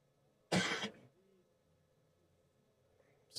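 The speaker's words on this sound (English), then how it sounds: "I have like a piece of food stuck in my throat, giving me the coughs." A single harsh cough and throat clear from food stuck in the throat bursts out close to the microphone, followed by quiet, then a brief start of another cough at the end.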